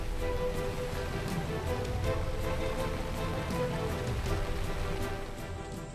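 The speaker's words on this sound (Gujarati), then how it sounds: "વાપીમાં 9 ઇંચ વરસાદ પડ્યો।" Heavy monsoon rain pours steadily in south Gujarat, a dense, loud, continuous hiss and patter with no break.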